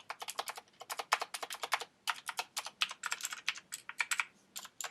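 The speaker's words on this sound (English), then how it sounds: "This keyboard's amazing." Rapid clicky keystrokes on a Razer computer keyboard, typed in quick bursts with short pauses, close and crisp with no talking.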